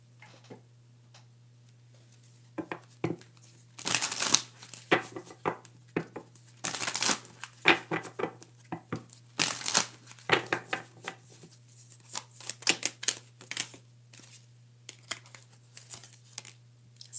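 A deck of oracle cards is shuffled and handled in bursts of crisp riffling, slapping and flicking, close and fairly quiet over a low steady hum.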